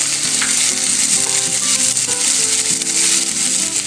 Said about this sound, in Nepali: र अब यसमा मैले प्याजलाई पनि भुट्नको लागि राखेँ।